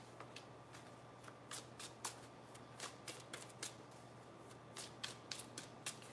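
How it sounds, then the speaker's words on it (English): Tarot cards are shuffled and drawn from the deck in quick, soft, papery riffles and snaps, close but faint, repeating in short irregular bursts. "I'm gonna go ahead and throw 3 cards each."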